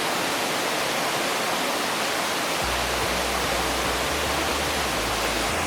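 Limdarha waterfall in Keshkal, a hidden forest falls, gives a continuous broadband roar of falling water, loud and unbroken, with a deeper rumble joining partway through.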